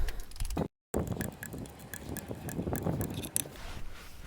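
A torque wrench tightens bolts on an F16 gearbox during an oil and gasket change, giving close metallic ratcheting clicks and clanks over a noisy workshop background, with a brief dropout near the start.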